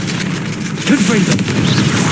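A Confringo blasting spell goes off in the Hogwarts Legacy video game: a sudden booming burst rises near the middle over a steady bed of game music and effects, then rumbles away.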